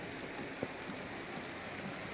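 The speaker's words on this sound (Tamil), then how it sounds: "இங்க எந்த அளவுக்கு ஒரு சூப்பர் மழை பெஞ்சுக்கிட்டு இருக்கு" Heavy rain pours down near temporary waterfalls, giving a steady, dense hiss of falling water with one brief tap partway through, heard close and without talk.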